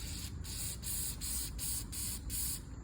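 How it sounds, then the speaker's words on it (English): Carb cleaner is sprayed through the emulsion tube of a Honda-style snowblower carburetor in a series of about six short, close, hissing bursts with brief gaps between them. "I'm going to put the same carb cleaner in there."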